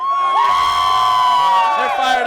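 Crowd at a lacrosse national championship tailgate cheering and whooping together, a loud, steady mass of voices with a whistle-like tone held above, lasting the whole moment.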